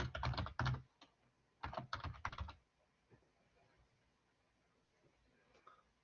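Fingers tap quickly on a computer keyboard while writing code, two clustered bursts of close, crisp keystrokes in the first half, then faint sparse clicks against near silence.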